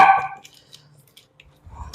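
An indoor house dog gives one loud, close bark at the start, followed by quiet rustling and a sharp noise at the end.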